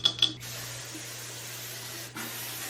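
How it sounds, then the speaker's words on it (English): Moroccanoil heat protectant hair spray opens with two quick nozzle clicks, then a close, steady hiss of spraying that runs for about two seconds. "put this Moroccan oil heat protectant spray on"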